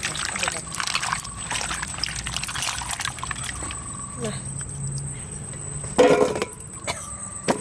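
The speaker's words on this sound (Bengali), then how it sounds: "সামান্য জল দিয়ে তাড়াতাড়ি ধুয়ে উঠে নেব আগে ধুয়ে নিতে" Duck meat rinsed quickly with a little water for an Assamese duck curry, a soft splashing trickle with a louder pour near the end, under talking and steady background insect chirping.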